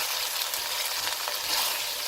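Minced meat (keema) being stirred and fried in a pan, bhuna style: a steady, close, dense sizzle with soft stirring scrapes throughout, no voices.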